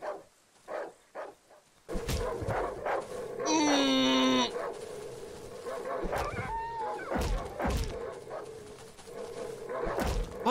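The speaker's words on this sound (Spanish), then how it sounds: "A ver si puedo llamar a un perro." A dog in the horror game Darkwood gives a sharp whining yelp and a few barks over a steady low droning ambience, loud and near, with faint voices present.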